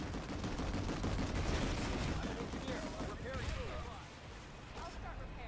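Dense, continuous gunfire and explosions with noisy vehicles rumbling through a PlanetSide 2 battle, loud and sustained throughout, with people talking over the game sound.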